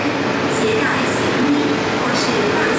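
Inside a Hong Kong subway station, a loud, continuous rumble of metro trains and station hubbub with a few faint tonal chimes or squeals, no clear speech.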